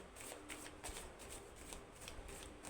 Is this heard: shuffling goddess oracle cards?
yes